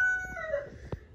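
A rooster crowing, a short, thin cry that falls in pitch, heard a little way off, followed by a soft thump.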